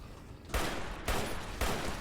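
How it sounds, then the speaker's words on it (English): Bursts of gunfire from the video game Fallout New Vegas, three loud broadband blasts at roughly half-second intervals, each trailing into sustained noise, with no talk over them. "Stop shooting me."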